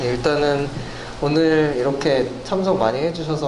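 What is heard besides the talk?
No distinct noise like a dog, phone or traffic.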